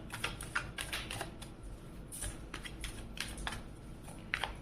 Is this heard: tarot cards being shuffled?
yes